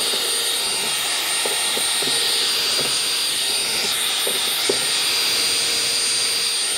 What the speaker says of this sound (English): I'm gonna make a pilot hole so we don't ruin